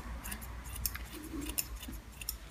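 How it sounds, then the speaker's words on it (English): Scissors point cutting hair during a lob/bob haircut, giving a series of faint, quick snips spread across a few seconds over low background hum. "I'm gonna point cut it a bit more"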